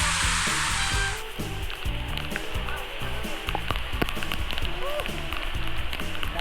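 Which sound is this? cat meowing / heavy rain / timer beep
heavy rain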